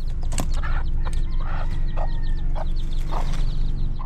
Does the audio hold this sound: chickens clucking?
yes